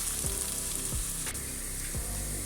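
Ingredients for a Goan pomfret fish curry fry in a pan with a loud, steady sizzle heard up close, while a spoon stirs and scrapes about three times.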